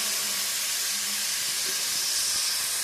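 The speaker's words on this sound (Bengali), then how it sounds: "ভালো করে ভেজে কষিয়ে নেব" Banana blossom frying in a pan for a vegetarian ghonto, a steady broad sizzle and hiss holding evenly throughout with no voices.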